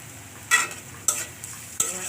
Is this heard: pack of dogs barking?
no